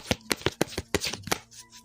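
Tarot cards being shuffled for a reading give a quiet, close series of soft rhythmic taps and flutters, about eight quick strokes in under two seconds.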